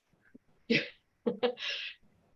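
A single sharp sneeze bursts out close by, with a quick intake of breath before it and a short exhale after.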